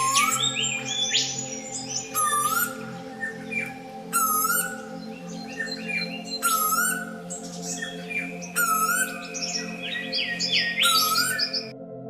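A Pacific koel gives loud, repeated rising whistled calls in short bursts, with other birdsong around them and a steady droning hum underneath.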